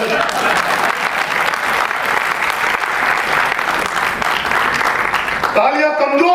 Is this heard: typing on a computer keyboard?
no